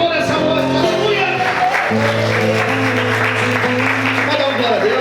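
A church congregation claps together in praise during an evening service, a steady dense wash of applause filling the space, with sustained music or voices carrying underneath.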